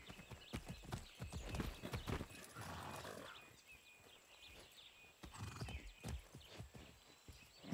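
Horse hooves clip-clopping in the video game Far Cry 6, with a neigh or whinny amid dense rustling game sound, fairly faint and continuous without talking.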